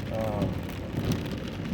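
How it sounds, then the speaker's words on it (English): Heavy rain showers hiss steadily and densely on surfaces outdoors, a constant wash of noise with no breaks and moderate loudness throughout. "we're getting a lot of heavy rain showers moving through the area here"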